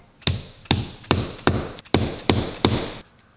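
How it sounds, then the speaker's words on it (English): A hammer sets a snap button on an anvil while a leather sheath is made. Eight or so sharp metallic taps land at a steady, quick rhythm, each close and loud with a brief ring, and no talking between them. "I'm just gonna set this real quick at the anvil."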